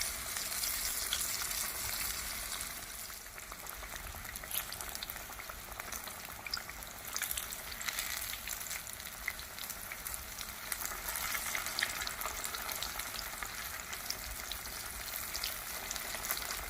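Chicken fried chiles rellenos sizzle in hot frying oil, a steady dense crackle that stays loud and close throughout with no talking.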